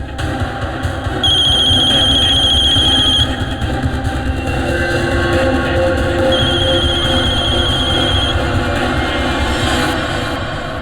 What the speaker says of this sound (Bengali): তোমার ফোন বাজছে